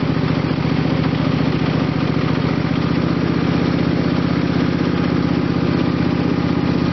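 Small engine of the Green Machine ride-on cart idling steadily, a loud, close, continuous low rumble with a fast even putter and no change in pace throughout.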